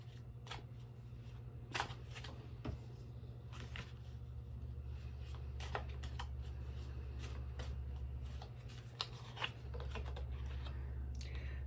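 Tarot cards are shuffled quietly and repeatedly, a string of soft riffling and slapping bursts over a steady low hum, with no talk.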